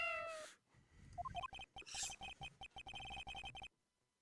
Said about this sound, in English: Oh, that sounded like a cat.